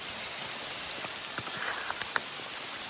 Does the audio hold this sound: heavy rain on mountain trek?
yes